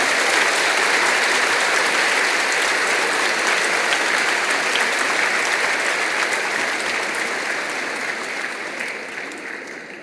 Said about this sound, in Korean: 네, 뜨거운 박수로.